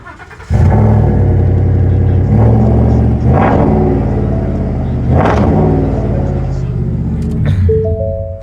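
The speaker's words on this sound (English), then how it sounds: "This truck is running dual exhaust. It sounds really good too. I'll give you guys a quick start up." A 2016 Ford F-150 pickup's 5.0 V8 engine with dual exhaust cranks and fires up, then settles into a deep, loud rumbling idle with a couple of throttle blips.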